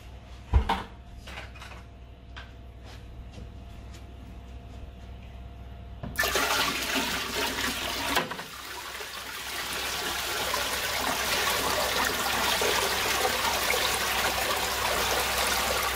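Water poured by hand into an aquarium tank, a faint clunk, then a sudden sustained rushing splash that breaks off briefly and resumes as a steady pouring wash, close and fairly loud.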